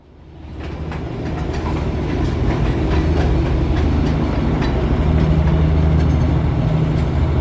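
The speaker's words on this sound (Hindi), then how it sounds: "अपनी DHR दार्जिलिंग हिमालयन रेलवे जो है दार्जिलिंग शहर से होकर गुजर रही है" The Darjeeling Himalayan Railway toy train passing through Darjeeling town, a loud, close rumble of rolling wagons with rhythmic wheel clatter that builds quickly and then holds steady with no voices.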